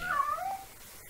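A cartoon cat in the Penny Arcade game On the Rain Slick Precipice of Darkness gives a single clear meow that bends downward in pitch, close and moderately loud, with no talking.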